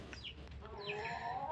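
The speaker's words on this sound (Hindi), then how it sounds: "ये देखे हमारी मुखिया की मुर्गी आ चुकी है" A farmyard hen clucks in short repeated calls, close to the microphone, with a steady outdoor background and no voices.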